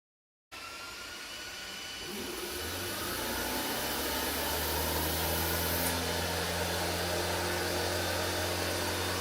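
xTool Metalfab unit switching on: a steady whooshing fan-like roar starts abruptly and swells slightly over several seconds, with a low droning hum underneath, continuous and close, with no voices.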